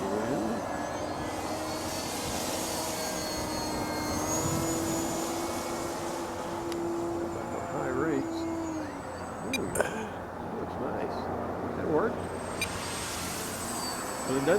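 An E-flite Timber RC airplane fitted with floats flies a stall turn, its small electric motor whining and shifting in pitch as it climbs, hangs and swings around, moderately distant against outdoor background noise.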